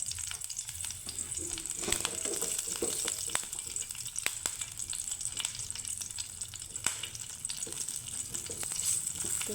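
Dried chillies, whole mustard seeds and curry leaves temper in a pan, making a quiet, continuous sizzle with sharp crackles and pops scattered throughout. Stirring sounds occasionally, close and alone without speech.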